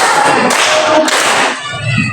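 Children clapping their hands in counted claps, two loud, close, broad slaps about half a second apart, followed by a fading, lower rumble.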